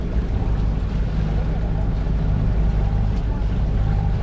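A sailboat under way on engine power after about fifteen hours of motoring, its steady low drone running continuously beneath wind and water noise, loud and close throughout.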